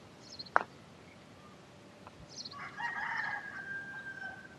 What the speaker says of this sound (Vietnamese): chỉ nghe tiếng chim và tiếng gà gáy